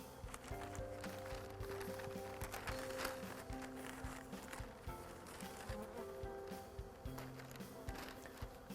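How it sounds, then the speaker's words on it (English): A honey bee swarm hums steadily while being smoked down onto newspaper, a faint, continuous buzz threaded with scattered clicks and knocks of handling nearby. "just get the bees down"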